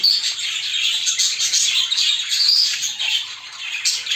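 Courting birds in nest cages chirp and squawk continuously, a busy chorus of overlapping high-pitched calls, loud and close, with no talk.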